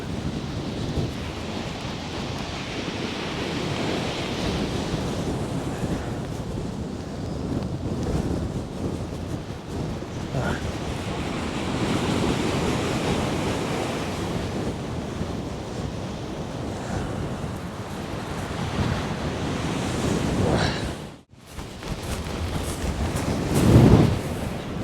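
Stormy sea surf and gusting wind batter Chesil Beach, a continuous loud roar of breaking waves with heavy wind buffeting on the microphone, swelling and easing, briefly dropping near the end before a final gust.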